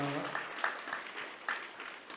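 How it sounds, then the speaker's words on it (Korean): Brief burst of clapping from a church congregation during a Sunday service, starting just as a voice trails off, moderately loud and quickly fading. "하나님께 영광의 박수 드리겠습니다"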